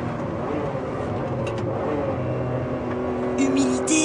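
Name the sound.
Ferrari 599 GTB Fiorano engine revving on acceleration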